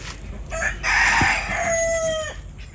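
A rooster crows once, loud and close, in a long rising-then-held call that ends with a sharp drop.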